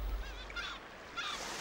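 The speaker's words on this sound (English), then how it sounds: "when they arrive, thousands of birds gather at the river mouths" Birds gather at an Alaskan river mouth during the salmon run. Faint goose-like honking calls come in two short bursts over quiet background noise, with no talking.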